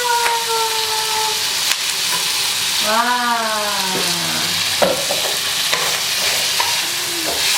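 Pork trotters sizzle and hiss loudly in a hot pan for spicy fire jokbal, a steady crackling frying sound, with a brief exclamation from a voice partway through.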